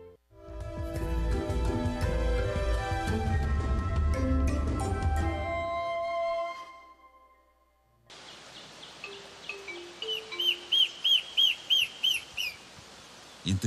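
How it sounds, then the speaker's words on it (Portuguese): Powerful song of a bird found only in the Jacareí forest among vines and bromeliads, heard after a loud music passage: a series of about seven clear, repeated whistled notes, fairly near, over a soft background of forest insects. "vive um pássaro que só existe neste lugar. O seu canto potente chama a atenção."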